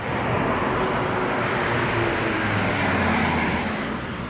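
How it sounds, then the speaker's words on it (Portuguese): A car passing on a road, a steady broadband engine and tire roar held close and loud throughout with no talk over it. "temos aqui um carro"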